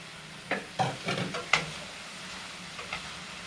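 Eggplant cubes for ratatouille are stirred in a hot pan, with several scraping, clattering strokes over a soft sizzle, close and moderately loud, then quieter frying with a couple of light scrapes.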